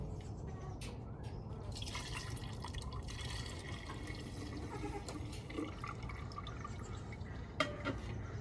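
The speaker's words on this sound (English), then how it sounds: "after we weigh the milk, we're going to pour it into a jar." Goat milk from Nigerian Dwarf dairy goats pours steadily from a bucket into a jar, a continuous soft liquid trickle and splash close by, with no talking.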